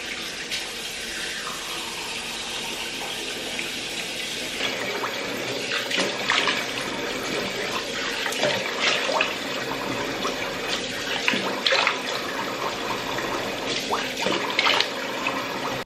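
Tap water runs steadily into a sink during face washing, a continuous close splashing hiss with shifting spatter as hands move through the stream, no talking.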